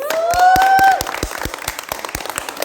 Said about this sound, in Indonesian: Tepuk tangan dong untuk Bundis.